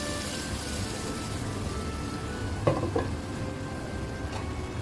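Cooked dal and bottle gourd are stirred into a simmering masala, with a soft steady sizzle and a couple of light spoon clinks against the pan partway through.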